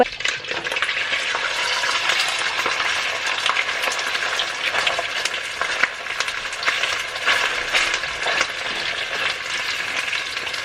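Butter and olive oil sizzle in a pot, a dense continuous crackle with brighter pops and spits throughout, fairly loud and close, with no voices.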